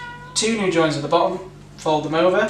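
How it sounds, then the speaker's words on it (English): A cat meows twice nearby in a home kitchen, two loud drawn-out cries separated by a short pause, with a person speaking over them. "that's just the cat, ignore him."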